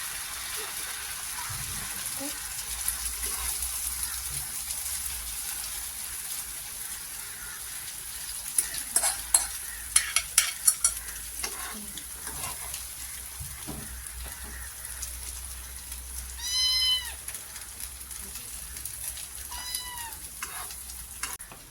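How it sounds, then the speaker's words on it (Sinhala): Omelette mixture poured into a pan of hot oil fries with a soft, continuous sizzle throughout, while a cat meows a few times in the background near the end. "අපි හදාගත්ත ඔම්ලට් මිශ්‍රණය ඔන්න දානවා"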